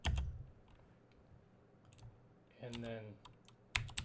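Computer keyboard typing at a command line, a few quick close key clicks in short bursts with brief speech in between.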